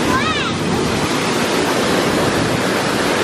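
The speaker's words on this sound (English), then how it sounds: "me and my sister are behind the waterfall." A waterfall roars from just behind the falling curtain of water, a dense, loud, unbroken rush filling everything, with a brief whistle-like tone early on.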